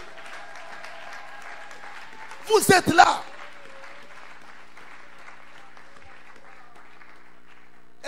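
A short burst of audience clapping rises for under a second during a French-language sermon at a Bible week talk on Bible translations, with the preacher's voice continuing before and after.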